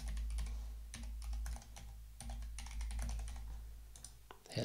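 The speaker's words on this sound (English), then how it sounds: "So we can go and type our username in again." A username is typed on a computer keyboard in quick bursts of close, crisp key clicks, with brief pauses between the runs over a low steady hum.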